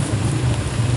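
Steady heavy rain pours down at a fishing lake, a dense, loud, continuous wash of drops on water and surfaces with no voices.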